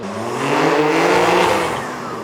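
A BMW M4 fitted with a valvetronic exhaust accelerates hard under load, a loud, close, rising engine roar that swells and holds before easing slightly.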